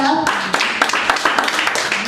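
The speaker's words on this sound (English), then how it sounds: "Clap it up, clap it up." Comedy club audience breaking into clapping, a scattered patter of hands that builds into quick bursts across a couple of seconds, with a voice speaking over the start.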